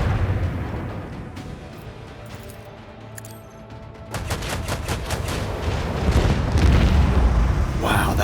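Void ship weapons fire in the Warhammer 40,000: Rogue Trader video game, with rumbling booms and crackling volleys that swell louder after a quieter, droning start.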